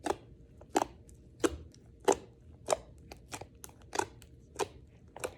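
Red slime is stretched and squished by hand, giving about a dozen crisp, crackly squelches at a fairly regular rhythm, close and quiet with near silence between them.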